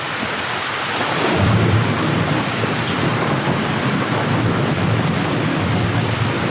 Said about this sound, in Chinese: 没想到突然就有暴风雨来